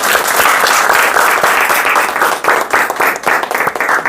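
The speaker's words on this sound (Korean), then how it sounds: "박수. 박수." Loud applause from assembled staff at a 2025 company New Year opening ceremony for an engineering and architecture firm. The clapping is dense and sustained, with individual claps growing more distinct as it goes on.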